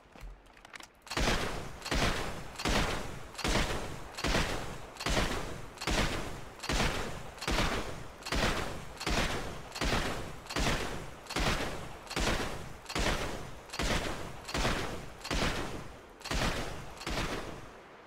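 Repeated gunfire at a shooting-gallery game in GTA: steady, evenly spaced bursts roughly once a second, loud and close, continuing for the whole stretch with no talking.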